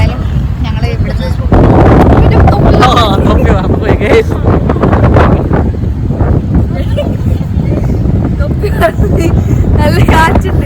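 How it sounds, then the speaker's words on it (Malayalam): Strong wind buffets the microphone on a boat trip around an island in Goa, a loud, continuous rush with a person talking over it throughout. "നല്ല കാറ്റുണ്ട്"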